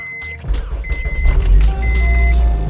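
Acura RSX started with a key: keys jingle, the starter cranks and the engine catches into a loud, steady idle close by, with a dash chime ringing intermittently.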